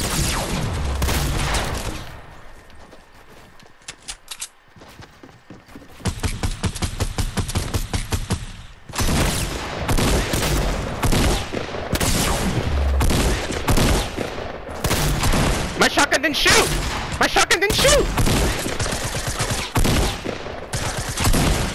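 Rapid bursts of gunfire from a Fortnite match in Playground mode, dense repeated volleys and fusillades filling most of the stretch after a quieter opening, loud and close with little break.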